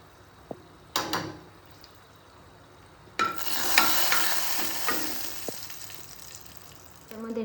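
Cumin seeds and a chili dropped into hot oil for a toddler's dish: a faint tap or two, then a sudden bright sizzle that bursts up and settles into a steady crackling hiss.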